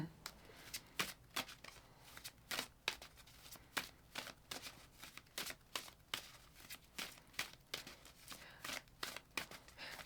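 An Anatomy of a Witch oracle deck is shuffled in quick, crisp riffles that repeat steadily and sit close and fairly quiet, with no talk over them.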